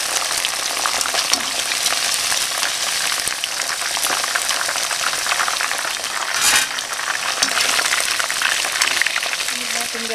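Pork pieces frying in hot oil, a loud, steady sizzle and crackle running throughout with a brief flare of spattering partway through.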